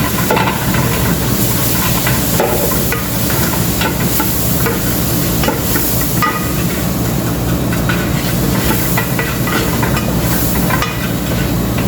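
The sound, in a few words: dried lemon and spices sizzling in a pan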